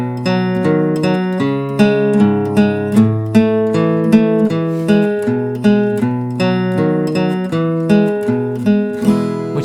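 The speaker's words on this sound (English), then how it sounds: "If you don't mute the notes, it sounds like this" Fingerstyle guitar plays a steady bass pattern on unmuted strings, so each note rings on under the next. The picking is even and close, with no talking.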